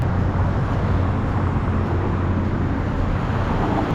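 Steady street traffic in hot, humid Bangkok, a continuous low rumble of engines and road noise with no distinct passes and no talk.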